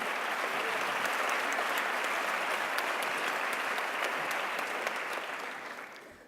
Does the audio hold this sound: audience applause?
yes